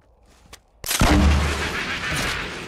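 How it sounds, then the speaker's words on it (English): A pumpkin launcher firing in Fortnite, a sudden loud launch boom followed by a sustained rumbling roar and explosion tail that slowly fades, after a brief quiet moment. "shoot it down with your pumpkin launcher"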